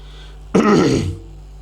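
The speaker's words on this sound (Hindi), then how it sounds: "इसलिए मैं बीच में खांस रहा हूँ" One short, sharp cough from a man with a cold, close to the microphone, with nothing else around it.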